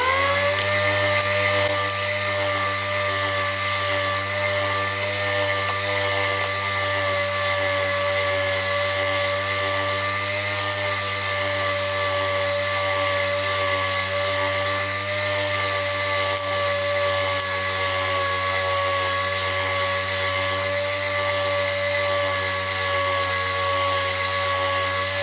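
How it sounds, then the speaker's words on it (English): A Hutchins DA air sander works the face of wooden wagon-wheel fellies in a coach shop, a loud, steady pneumatic whine with a low hum beneath it that runs unbroken and close throughout. "The only place I use an air sander is on the face of these fellies, and I run a Hutchins DA sander."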